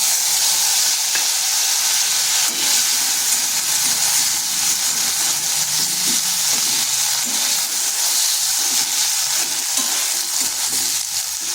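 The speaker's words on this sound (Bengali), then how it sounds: "মশলাটা একটু কষে নিচ্ছি যাতে কাঁচা গন্ধ যেটা সেটা চলে যায়।" Ground spice paste frying with browned potatoes in hot oil gives a constant bright sizzle and hiss, with occasional stirring scrapes underneath and no talking.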